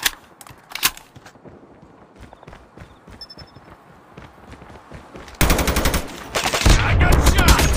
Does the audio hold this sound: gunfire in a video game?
yes